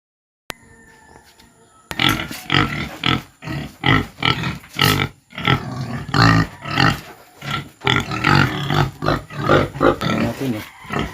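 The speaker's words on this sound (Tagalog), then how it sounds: "Papakain natin yan sa ating dalawang inahing baboy mga kaagri na buntis." Two pregnant sows feed on a coconut pulp and salt mix, giving loud close grunts and wet chomping in an irregular rhythm after a quiet start.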